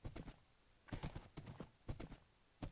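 Horse hooves clip-clop in the Minecraft video game, coming in quick bursts of sharp, hollow knocks separated by short pauses, quiet and distinct with no talking over them.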